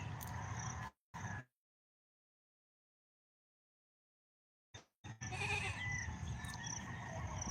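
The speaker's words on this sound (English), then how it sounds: "I hear you, goat." A goat bleats in short loud bursts near the start, then falls silent for several seconds before more sustained bleating resumes and continues to the end, close and clear.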